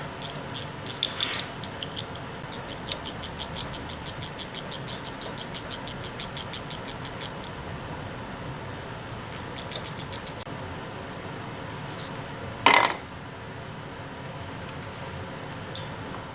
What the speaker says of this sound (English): It's easier with the ratcheting wrench because you have more room.